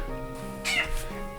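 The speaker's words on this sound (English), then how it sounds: "Cat!" A cat gives one short, close meow that rises briefly above a low, steady hum.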